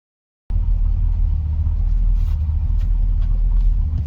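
A 1983 Chevy square body pickup on the road gives a steady, loud low rumble of engine and road noise that starts abruptly and holds constant.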